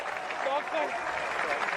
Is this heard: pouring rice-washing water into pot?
no